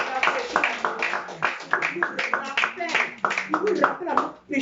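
A church congregation claps rhythmically in quick, uneven bursts while voices speak and call out over the clapping throughout.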